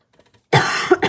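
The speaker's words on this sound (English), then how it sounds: "I'm so sorry, I'm like getting a cough" A single harsh cough bursts out close up after near silence, with a short second cough following, from a person speaking during a tarot card reading.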